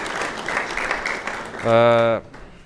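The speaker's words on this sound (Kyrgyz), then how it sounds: "кол чаап коелу" Applause from a studio audience at a televised quiz show, a broad wash of clapping under a voice, followed by a loud sustained tonal buzzer or horn.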